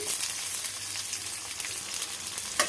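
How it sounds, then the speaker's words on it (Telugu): Chopped onions frying in oil with spices for a mutton curry, a dense, steady, close sizzle throughout with faint crackles and a stirring scrape near the end, no talk. "ఇప్పుడు ఉల్లిపాయలు గోల్డెన్ కలర్ వచ్చేంత వరకు మంచిగా కలుపుకుంటూ ఫ్రై చేసేసుకోవాలి"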